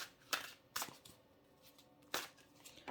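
Tarot cards riffle in short crisp bursts, a few quick shuffles close by with quiet pauses between them.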